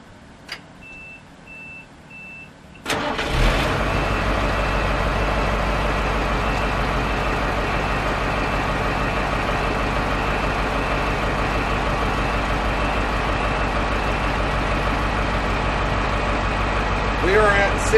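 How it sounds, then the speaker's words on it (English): Dump truck's low air pressure warning signal sounding with the engine running: a steady, loud, continuous tone rides over the heavy idling rumble, which starts abruptly after a few quiet seconds with a faint beeping before it. "We are at 60 psi and the warning signals have gone off"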